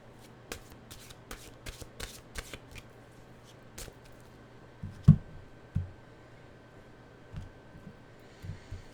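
Oracle cards are shuffled by hand up close, giving soft riffling flicks and taps in an uneven rhythm, with a few louder thumps as the deck is handled, and no voices.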